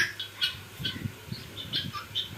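Hens on a small poultry farm giving short, sharp squawks at moderate distance, scattered irregular calls over a quiet background with no talk.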